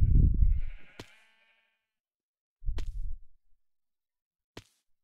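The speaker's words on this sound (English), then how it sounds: "Hi, sheep." A pair of sheep bleats in the Minecraft Feed the Beast modpack, one loud drawn-out call followed by a shorter one after a pause, then a sharp click; no talking.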